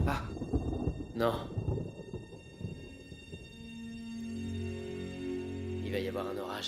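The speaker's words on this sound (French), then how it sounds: "Il va y avoir un orage." Low thunder rolling in the distance, a long deep rumble under faint background noise, with brief voices early on.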